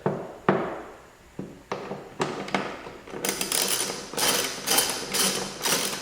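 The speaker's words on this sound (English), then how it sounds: "I'm going to use a 3/8 drive bit on a 3 or 4 inch 3/8 drive extension on a 3/8 drive ratchet" A 3/8 drive ratchet with an extension works on bolts of a BMW E39 e-box, sharp isolated clicks and knocks at first, then rapid bursts of ratcheting clicks, close and fairly loud, no talk.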